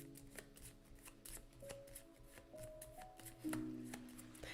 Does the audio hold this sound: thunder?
no